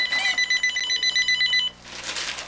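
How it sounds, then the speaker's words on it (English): Home telephone ringing with a rapid electronic trill, loud and close, in a short burst that stops abruptly, followed by rustling noise. "There, she's calling the home phone."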